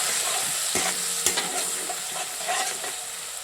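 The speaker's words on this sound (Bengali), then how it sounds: "দেখি সুন্দর করে নেড়ে দিচ্ছি দেখুন।" Stirring a sesame and tomato masala paste in a hot frying pan for a crispy okra dish, with a close, continuous sizzle broken by several sharp scraping strokes of the spoon.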